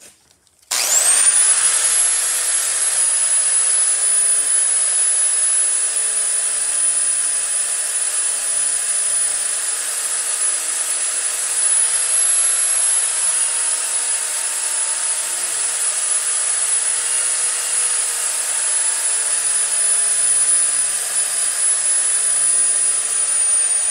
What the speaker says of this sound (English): I'm going to first wire wheel it and see if I can get my weld bead exposed